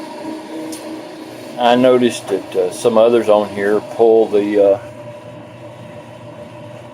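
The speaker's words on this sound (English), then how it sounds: "While I'm waiting on the air compressor to get up to pressure" An air compressor runs steadily as it builds pressure, a constant mechanical hum in the background while someone talks over it for a few seconds.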